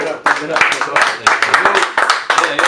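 Studio audience clapping for a guest on an underground hip-hop radio interview, a busy patter of hands running for about three seconds with voices mixed in over it.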